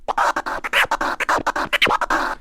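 A DJ doing fast twiddle scratches on a turntable, with dense, quick fader cuts over back-and-forth record strokes, a loud and continuous stutter with no voice.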